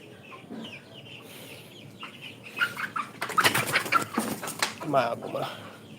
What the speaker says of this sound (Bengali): এটা হচ্ছে অরিজিনাল সোনালি মুরগি